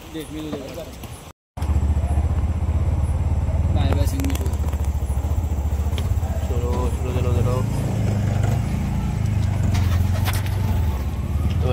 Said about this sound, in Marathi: आणि इकडे आपली रिक्षा.